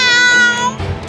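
A cartoon cat gives a single clear, drawn-out meow, loud and close, with a short lower cry trailing off at the end.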